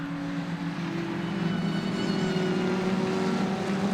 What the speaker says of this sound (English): Supercharger on the Mini wailing away as well.